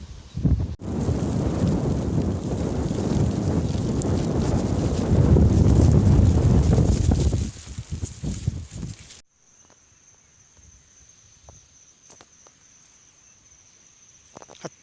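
Strong wind blows outdoors on a forest walk, a loud, steady broadband roar of gusts hitting the microphone for about nine seconds before dropping abruptly to near quiet with faint rustles.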